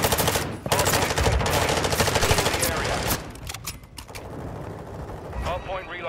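Sustained rapid automatic gunfire from a Call of Duty Modern Warfare 2 ranked Hardpoint match, loud and continuous bursts for several seconds, then a busier mix of game effects with voices talking.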